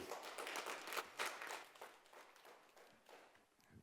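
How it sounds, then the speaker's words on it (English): Faint, scattered applause from the audience at a public commission meeting, a brief burst of claps that swells and then tapers off quietly in a large room. "Can we keep the applause down, please?"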